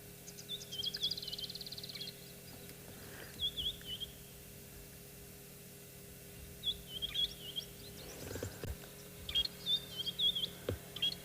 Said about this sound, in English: You can hear there's quite a few birds calling.